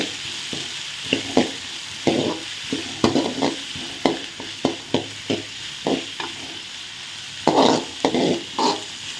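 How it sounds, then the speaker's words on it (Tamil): Onion, green chili and tomato sauté in hot oil for prawn thokku, a steady sizzle broken by repeated loud scrapes and knocks of a spatula stirring the pan. "எல்லாம் போட்டு நல்லா வதக்கணும்"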